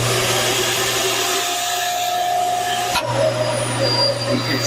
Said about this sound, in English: Okay, here's your vacuum.